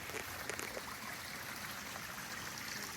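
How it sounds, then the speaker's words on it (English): A small garden waterfall trickles steadily, a soft, faint continuous patter and burble of running water without any talking. "And over here at the waterfalls"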